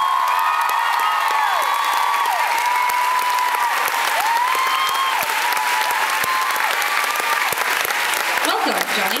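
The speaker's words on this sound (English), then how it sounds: "give a huge, huge, huge, huge round of applause to Mr." Crowd at a concert in New York's Town Hall breaks into loud, sustained applause with cheers and whoops, filling the room steadily and evenly from start to finish.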